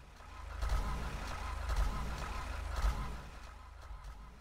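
A car engine in the GTA 5 zombie apocalypse mod fails to start, with three cranking bursts over a steady low rumble, fairly close, and no talking.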